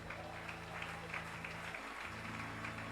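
Applause rings out from a church congregation at a Sunday service, a steady mass of clapping that holds even and dense throughout, with a faint low hum beneath it.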